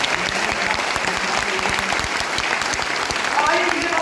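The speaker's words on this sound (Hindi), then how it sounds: "एक बार दिल खोल के ताली बजा दो यार।" A crowd at a business training event applauds, with loud, dense clapping that holds steady for several seconds.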